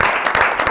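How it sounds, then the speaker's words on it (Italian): Audience applause for martial arts athlete Marco Meneguzzo at a CONI Veneto event, a short steady burst of clapping from a crowd heard up close. "un applauso a Marco"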